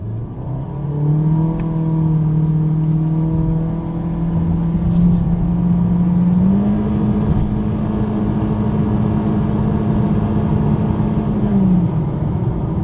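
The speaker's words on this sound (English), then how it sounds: "Now it does have that CVT in it. which is what you're hearing right there." A 2019 Honda HR-V with a CVT accelerating to highway speed in sport mode. It gives a loud, sustained whining drone that rises in pitch, holds nearly flat, steps up again, then eases off, heard from inside the cabin without talk.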